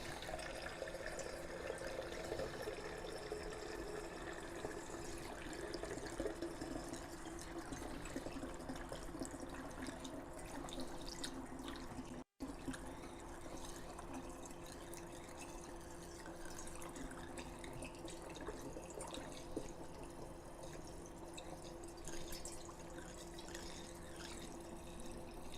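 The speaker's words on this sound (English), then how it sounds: "So now what we're going to do is we want to fill it full of, this is the hot tap water." Hot tap water runs steadily into a small barrel of about a gallon, a soft continuous gushing and splashing close by, with one brief break midway.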